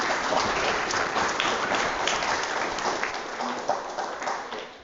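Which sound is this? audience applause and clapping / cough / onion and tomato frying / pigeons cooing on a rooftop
audience applause and clapping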